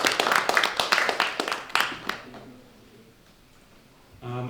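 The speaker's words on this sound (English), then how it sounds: "let's give them a round of applause" Audience at a candidate forum claps for the candidates, a dense burst of handclaps for about two seconds that thins out and fades to near silence, followed by a brief voice at the end.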